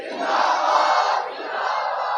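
A large crowd at a religious gathering shouts a slogan in unison, a loud, close, sustained roar of many voices that dips briefly and then rises again.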